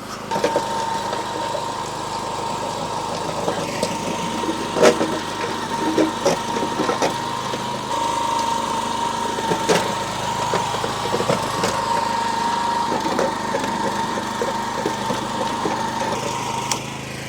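A large petrol garden tiller engine runs steadily throughout, a continuous mid-volume mechanical drone with small knocks and rattles, recorded close outdoors with no talking.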